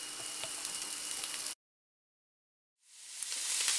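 Sausages sizzling in a frying pan, a bright crackling hiss that cuts to silence for over a second, then swells back in and grows louder.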